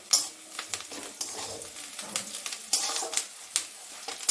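Onion, green chili and black cumin fry in hot oil, giving a steady sizzle broken by frequent stirring scrapes and clinks of a utensil against the pan.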